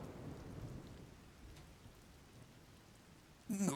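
Rain and rolling thunder fill a stormy scene in Zelda: Tears of the Kingdom, a low rumble fading under a steady hiss of rain before a sharper crack near the end, with no talking.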